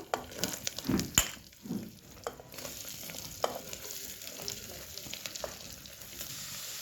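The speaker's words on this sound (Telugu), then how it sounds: "ఇప్పుడు ఉల్లిపాయలు వేసి కలుపుకుందాము" Onions and curry leaves fry in hot oil while being stirred in a pan for a potato curry, a steady sizzle with scraping stir strokes and a few louder clanks in the first two seconds.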